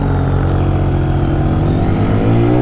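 A Yamaha T-Max scooter engine revs loud and close, its steady drone climbing gradually in pitch as it accelerates, with no talking over it.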